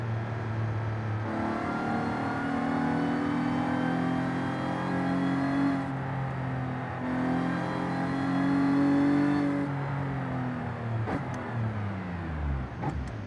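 A car engine in the Forza Horizon 5 racing game, driven with a steering wheel, revs up and shifts in rising, falling sweeps, then drops through gears at the end. The engine is loud and close, with no talking.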